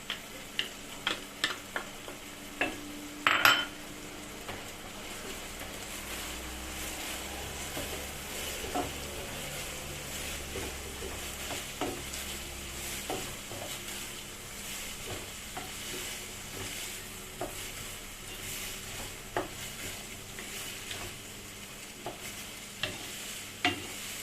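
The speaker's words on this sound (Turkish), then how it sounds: "Şimdi soğanımı ilave ediyorum. Soğanı da bir güzel kavuralım." Onions sautéing with minced meat in a pan for a baked potato oturtma dish, a steady low sizzle with frequent scraping stirs and spatula clicks, strongest near the start, continuing evenly without talk.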